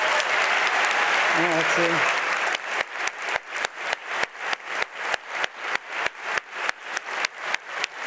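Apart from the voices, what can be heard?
audience applause for the students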